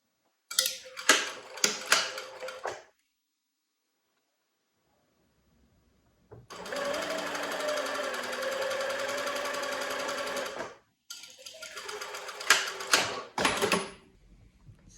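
A sewing machine stitching a wrap skirt runs in three bursts: two short stuttering runs of stitches, a steady whirring stretch of about four seconds, then more short clattering bursts, close and alone without talk.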